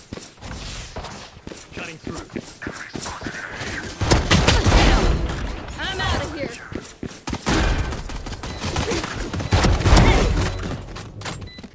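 Judge shotgun blasts in a Valorant match, a series of loud, heavy booming shots fired in quick succession amid reload clicks, footsteps and other game effects, with someone talking throughout.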